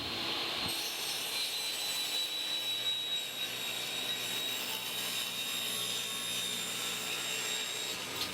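A power saw cuts wood for drawer sides, giving a continuous, loud, steady whining roar with a high tonal edge that runs close and unbroken throughout.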